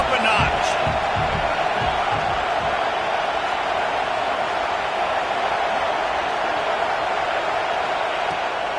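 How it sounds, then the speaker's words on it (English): A College Football 25 video game stadium crowd roars in a dense, constant wash of cheering with some thumps early on, and commentary sounds beneath it. "this crowd is turning it up a notch"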